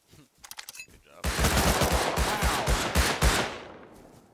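In a shooter video game, a rifle is tap fired: a few quick shots, then a rapid string of loud cracks in short bursts that fades out, close and dominant over faint background.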